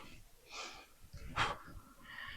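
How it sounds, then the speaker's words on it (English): Rhythmic breathing in and out during a standing and mat fascia exercise workout in a warm conservatory, a few airy breaths, close and moderately loud, with no talking. "Breathe out, in. Breathe out,"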